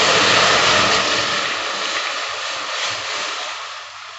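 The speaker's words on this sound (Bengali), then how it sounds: "দুধটা দিয়ে দিচ্ছি" One litre of pure cow's milk is poured into a cooking pot holding freshly fried lachcha, making a loud, rushing hiss that gradually fades over a few seconds, with no talking.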